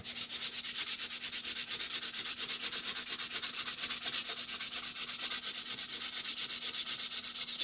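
Sandpaper rubs back and forth over a new wooden hammer handle in quick, even, rhythmic strokes, a close, continuous rasping that never pauses.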